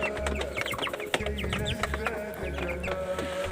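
Several chickens cluck close by in a steady busy chatter, with low rumbling handling noise underneath.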